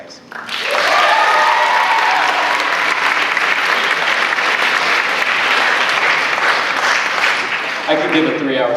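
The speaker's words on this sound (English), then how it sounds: "Let's give a round of applause for James Clemens High School." A large high-school audience at the James Clemens High School awards show claps loudly and steadily for about eight seconds, with scattered cheering voices rising above it.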